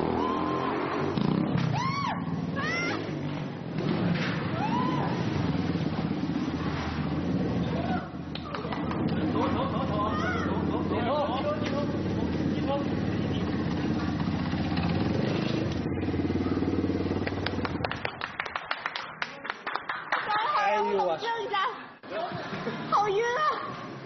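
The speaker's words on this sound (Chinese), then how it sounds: "除了能够听见轰鸣的摩托车声" A motorcycle races around the inside of a steel mesh globe, its engine roaring and rising and falling continuously beneath loud voices, then thinning out near the end.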